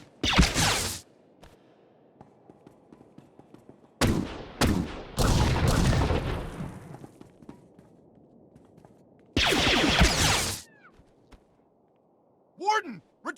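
Blaster gunfire in Star Wars The Old Republic comes in loud bursts of sharp energy shots, several volleys spread across the moment, with a voice speaking in between.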